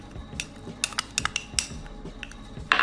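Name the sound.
spoon mixing spices into mutton liver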